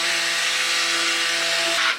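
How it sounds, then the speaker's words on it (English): A stick blender runs continuously while mixing lye water into soap batter, a steady motor whine with a constant pitched hum and a brief shift as the blade moves near the end. "I'm going to pour in the lye water solution down the neck of the stick blender right here. Then I'm going to mix this up."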